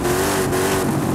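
A Toyota's engine revs steadily in Forza Horizon 5, a loud, continuous engine drone with no voices.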